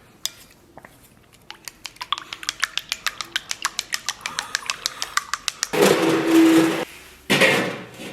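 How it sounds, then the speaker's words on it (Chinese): Eggs seasoned with a little salt and vinegar beaten in a bowl, heard as a close run of quick, regular clinking taps that speeds up. Louder, rougher noise bursts follow near the end. "然后咱们把这个鸡蛋给它打散。"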